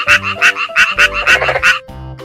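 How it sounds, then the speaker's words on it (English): Frog croaking in a loud, close series of about six rhythmic calls, each a short buzzy burst, ending with a quieter tail. "Frog."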